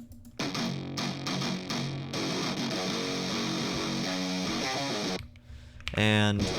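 Odin 3 guitar plugin played with key switches for a palm-muted sound, loud chugging guitar-like phrases with short gaps, shifting to a brighter flurry of notes near the end.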